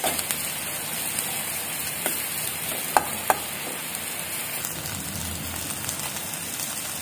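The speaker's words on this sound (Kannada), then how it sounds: "ಈರುಳ್ಳಿ ಸ್ವಲ್ಪ ಕೆಂಪುಗಾಗೋ ತನಕ ಹುರಿತಾರೆ ಅಷ್ಟೆ" Onions frying in a pan, a steady crackling sizzle with a few sharp pops and occasional stirring clicks, close and continuous without talk.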